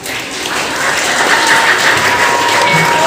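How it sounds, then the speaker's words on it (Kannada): Loud, sustained applause from a group of children in a church at a Vacation Bible School event, steady clapping filling the room for the whole stretch with no speech over it. "ಜೋರಾಗಿ ಚಪ್ಪಾಳೆ ಈ ಒಂದು ಸಾಕ್ಷಿಗೆ ಮತ್ತು ಅದ್ಭುತಪಡಿಸಿದಂಥ ದೇವರಿಗೆ."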